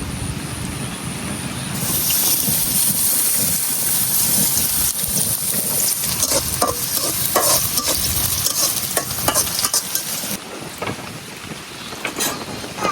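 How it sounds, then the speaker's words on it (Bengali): Chopped onion hits hot oil in a heated wok, bursting into a loud, steady sizzle and frying hiss, with stirring scrapes and clatters over it; no talking. "এখন দিয়ে দেন পেঁয়াজ কুচি"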